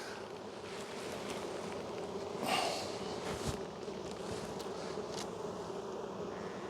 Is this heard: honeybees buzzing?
yes